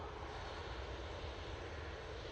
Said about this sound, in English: this Ryanair departing now